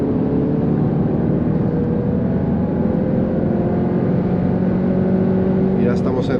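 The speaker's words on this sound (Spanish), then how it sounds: "se escucha súper bien el motor de este precioso" Audi TT 45 2021 in Sport mode accelerating on a German autobahn at speed amid light traffic, its engine a steady sustained drone blended with road and wind noise, with a brief higher sweep near the end.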